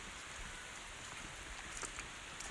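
Rain falling outdoors near a chicken coop and greenhouse, a faint steady patter with a few soft drips standing out, no voices.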